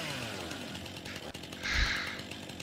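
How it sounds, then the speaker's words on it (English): In the video game Farming Simulator 19, a chainsaw trims limbs from a felled tree, buzzing and rasping continuously in the foreground, with a louder, harsher cut near the end. "just hold the chainsaw and go up and down on it"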